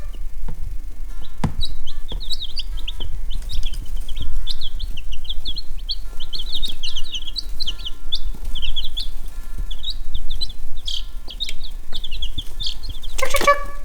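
Backyard chickens cluck and chirp in a steady scatter of short calls throughout, moderately close, with a louder sharp burst of noise right at the end and no talking.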